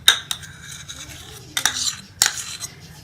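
Chopped boiled eggs are mixed with mayonnaise in a bowl, with a few sharp clinks and scrapes of a spoon against the bowl between soft squelchy stirring, close and with no talk.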